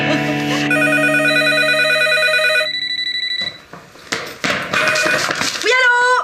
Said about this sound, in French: c'est toujours pour elle, le téléphone